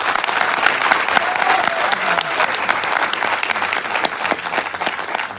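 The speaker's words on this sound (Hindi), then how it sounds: "तो सबके लिए जबरदस्त तालियां" An audience claps loudly and steadily throughout, a dense, continuous round of applause from a crowd.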